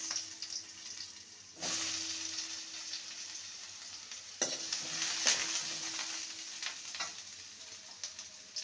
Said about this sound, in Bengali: এবারে কচুগুলোকে তুলে নেব ওই তেলে আলুগুলোকে ভেজে নেব